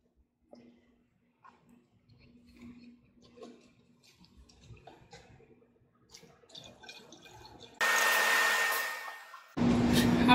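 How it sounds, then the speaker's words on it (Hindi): Water poured into the radiator of a diesel engine, a loud rushing splash that starts abruptly near the end, briefly pauses, then resumes, after a stretch of quiet handling noises. "अब हम इसमें पानी डालेंगे।"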